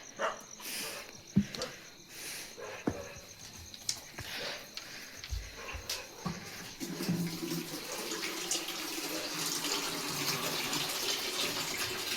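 Water runs from a household tap while a drain is being cleaned at home. A few scattered knocks and clatters come first, then a steady, close gush of running water fills the second half.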